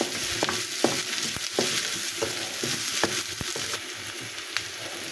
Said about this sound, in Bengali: 2 মুঠ পেঁয়াজ কুচি দিয়ে দিলাম, নেড়ে চেড়ে একটু নরম করে নেব